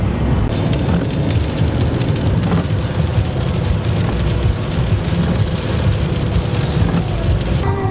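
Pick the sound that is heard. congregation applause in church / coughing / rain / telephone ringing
rain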